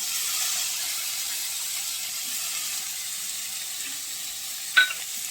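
Beans, carrot, sweet potato, papaya and tomato frying in a pan, giving a steady close sizzle and hiss with a brief stirring clatter near the end.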